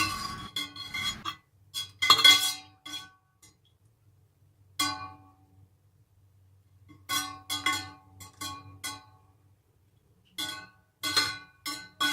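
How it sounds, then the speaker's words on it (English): A ginger and mint leaf drink is stirred in a glass and then filtered, giving scattered bright clinks and taps in short bursts with quiet gaps between them, close by and with no voices. "the next thing to do is to stir and filter the ginger and the mint leaves"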